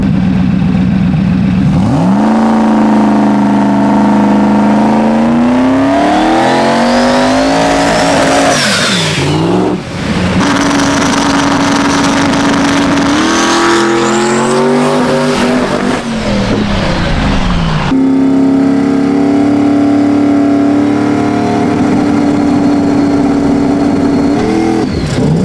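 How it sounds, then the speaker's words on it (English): A turbocharged car does a second-gear burnout, its engine revving hard and loud throughout with rising and falling pitch, a brief dip mid-run, then a sustained high-rev roar close by. "Second gear burnout?"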